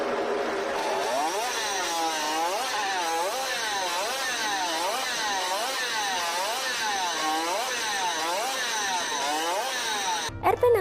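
A 1960s Suzuki RP68 50cc two-stroke racing motorcycle revs hard through repeated rising and falling cycles at very high rpm, a shrill, buzzing whine that climbs and drops steadily, close by and alone until it cuts off at the end.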